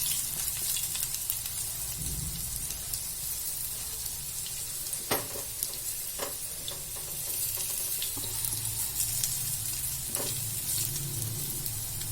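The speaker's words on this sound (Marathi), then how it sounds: "पाच मिनटं मंद गॅसवर शिजून शालो फ्राय करून घेऊया" A breakfast dish shallow-fries in a pan on a low flame, making a continuous moderate sizzle with a few faint clicks and pops throughout.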